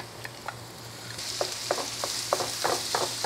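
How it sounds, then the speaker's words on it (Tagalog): Ground beef, about 500 grams, sautés in bacon fat in a pan under a constant hiss, with a run of short scraping stirs that grows busier and louder toward the end, heard up close without speech. "Drug-drugin nyo lang, tapos gisa lang natin hanggang mag-brown ng konti"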